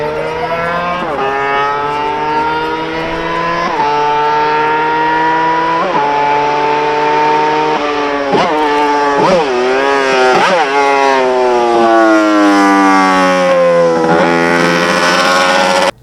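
Honda RC149 five-cylinder racing motorcycle engine screaming at very high revs, close and loud, climbing through repeated gear-like pitch steps before a series of sharp blips and a long rising wail, with no talk over it.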